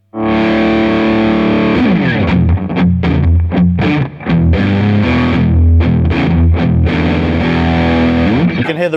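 An electric guitar running through a Boss Waza Craft BD-2w Blues Driver pedal on its custom setting, with overdriven chords and choppy rhythm playing, loud and slightly muddy, continuing steadily for several seconds.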